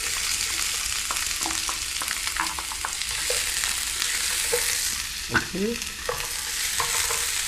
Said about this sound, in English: The same thing with the onions. You just want to get it a nice sauteed look, not too cooked.